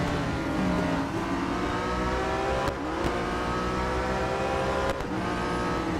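Race cars roar through a Real Racing 3 race, a pack of BMWs alongside slower cars, engines droning loud and steady with rising revs and brief dips between gear changes.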